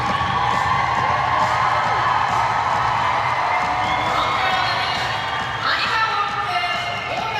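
A big arena crowd at the Sheffield European figure skating championships roars and cheers for a pairs team after their short program, a loud sustained wall of cheering and whoops with a commentator talking over it.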